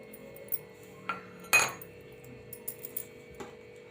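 A spoon clinks a few times against a bowl while sunflower oil is stirred into dalgona coffee cake batter. The taps are light and sparse, with one sharper knock, over a quiet background.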